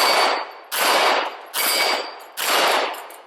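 Four loud, sharp pistol shots fire at a steady rhythm about three-quarters of a second apart, each with a ringing tail that fades before the next, during a handgun comparison among a Walther PPQ, HK VP9 and Glock 17.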